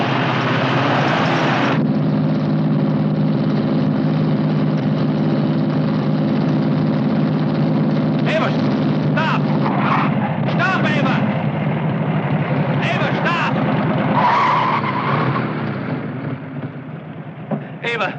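A World War II-era Jeep engine drones loudly and steadily, with a shift in pitch as it accelerates and brief scraping bursts like tyres skidding over the engine noise.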